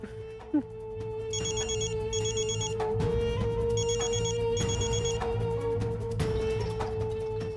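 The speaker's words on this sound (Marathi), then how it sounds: "मामा फोन उचलाव लवकर." A phone rings in repeated double bursts of bright electronic trilling, loud and close, over a steady hum with faint voices underneath.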